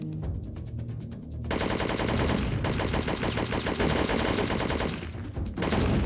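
Rapid automatic gunfire rattles in the video game Syphon Filter, loud sustained bursts with a short pause between them.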